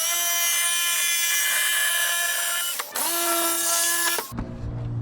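A power tool cutting louver holes into a car hood, a loud close whine that holds steady, dips and restarts briefly, then cuts off into a lower hum.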